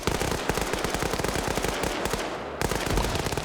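A ZU anti-aircraft gun fires in a video game in a loud, rapid, continuous burst of heavy automatic shots, with a brief gap and then more firing.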